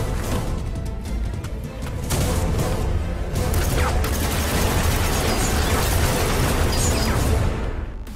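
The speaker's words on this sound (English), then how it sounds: "there's a shootout going on inside his room." Gunfire erupts in a movie shootout inside a room, a loud, dense barrage of bursts, pops and mechanical clatter that runs continuously for several seconds with no talk.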